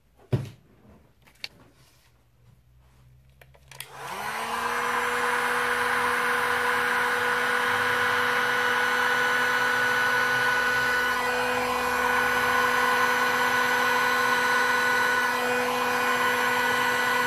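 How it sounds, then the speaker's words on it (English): A heat gun is switched on after a few faint clicks and knocks, then blows a loud, steady whirring roar over poured resin art, holding constant and close for the rest of the stretch with no talking. "And then heat gun."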